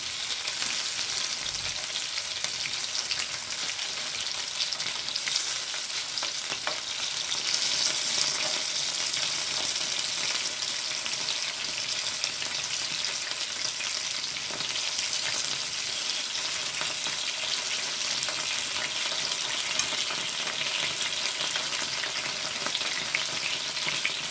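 Chicken pieces sizzle and fry steadily in hot oil while being cooked down for Kerala-style chicken kondattam, a dense continuous crackle with occasional stirring, close and even throughout, no voices.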